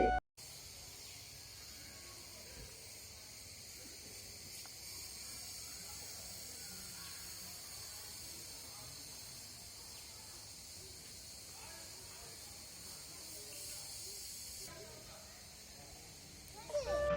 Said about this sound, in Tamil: இப்போ நம்ம காட்டு பகுதிக்குள்ளே இருக்கிறதால பூச்சிகள் சத்தம் அதிகமாக கேட்டது